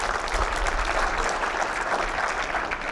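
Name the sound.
audience applause in workshop room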